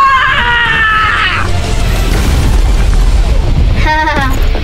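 Cartoon explosions from an animated battle show, a loud blast with a rumbling low roar filling most of the clip, with tonal whooshing effects at the start and end.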